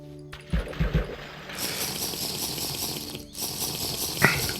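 Steady flowing water in TerraFirmaCraft, a Minecraft mod, at an inland freshwater source, a continuous broadband wash with a few soft knocks and a brief click over it.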